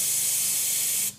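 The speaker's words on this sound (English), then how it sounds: "when I spray just a small amount of air" A short burst of compressed air sprayed into a Sea-Doo GTX DI RAVE valve with a replaced O-ring, air leaking out: steady close hiss that stops abruptly near the end.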